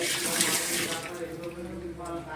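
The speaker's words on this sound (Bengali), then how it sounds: "যার জন্য আরেকটুকু জল আমি দিয়ে দিলাম" Water is poured into a pot of Bengali katla fish head muri ghonto curry, making a steady, close splashing hiss that lasts the whole moment with no speech over it.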